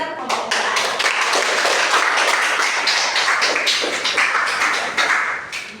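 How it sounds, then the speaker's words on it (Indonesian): A classroom of students applauds a group representative, dense continuous clapping from many hands close by, fading slightly toward the end, with voices mixed in. "Tepuk tangan untuk perwakilan kelompok 4."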